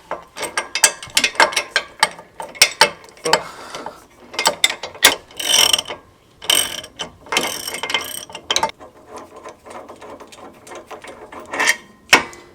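An 18mm ratchet wrench turns bolts during a 3.5-inch Metalcloak lift install on a Jeep JL: bursts of rapid, close pawl clicking, sometimes long strokes and sometimes short ones, with pauses between sets and no talk.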